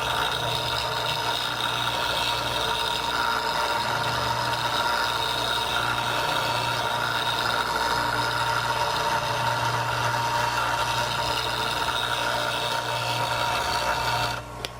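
Steady bench grinder hum and whir as a turning tool is set on the grinder wheel in a Wolverine Vari-Grind jig, the tip being ground to a rounder shape; continuous and close for the whole span, cutting off just at the end.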